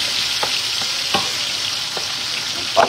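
Garlic frying in a hot pan, a steady close sizzle with sharp spitting pops of oil splattering every so often, no talk.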